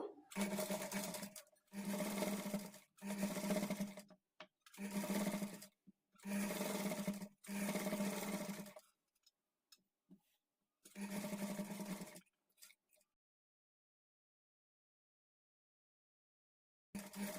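A sewing machine stitches a blouse lining in several short bursts of close, loud motor whir separated by brief stops, then falls quiet near the end before starting again.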